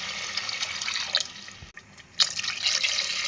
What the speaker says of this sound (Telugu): గ్లాస్కి 2 గ్లాసులు వాటర్ వేద్దాం.